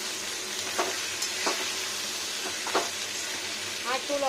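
Salt being stirred into a drumstick (sajne data) curry in a pan, with a continuous close sizzle and several scraping spoon strokes spread across the stretch and no talking.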